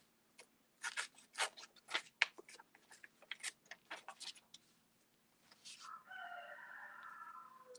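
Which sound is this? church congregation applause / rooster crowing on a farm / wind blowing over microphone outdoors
rooster crowing on a farm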